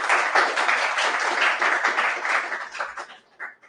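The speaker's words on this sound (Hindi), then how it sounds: "एक जोरदार तालियों के साथ आप सतपाल का स्वागत करें" A crowd applauding with dense, steady clapping that holds strong for a few seconds, then thins out and fades near the end.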